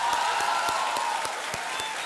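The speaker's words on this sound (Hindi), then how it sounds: "एक बार फिर जोरदार तालियों के साथ इनका अभिनंदन।" Studio audience applause on a televised quiz game show, a steady dense wash of clapping with sharper individual claps standing out, sustained and fairly loud for the whole stretch.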